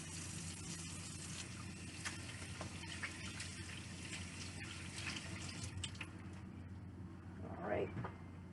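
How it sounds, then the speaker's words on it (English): Hands being washed under a running kitchen tap while cooking shrimp scampi linguine, a steady faint gush of water running continuously with a brief louder splash near the end. "But before I do that, I'm going to wash my hands."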